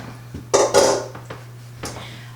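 Food is tipped back into a cooking pot with a few close clattering knocks of utensil against cookware, two louder clanks early on, then quieter taps over a low steady hum.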